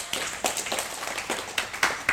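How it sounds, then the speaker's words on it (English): Light applause from a small audience at a Buddhist study class, a thin patter of scattered hand claps that stays modest and fairly close throughout. "Give Anna a round of applause."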